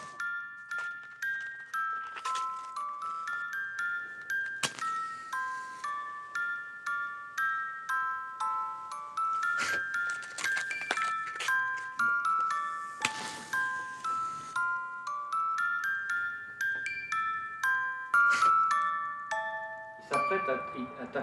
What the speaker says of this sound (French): Tape avec son marteau sur la cloche directe.